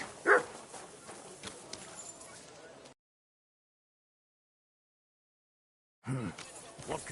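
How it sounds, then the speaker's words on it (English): A dog in the medieval role-playing game Kingdom Come gives a sharp yelp or bark near the start, followed by faint rustling, then silence and a short burst of ambient noise at the end. "Call off that dog, or I'll report you for being a public nuisance."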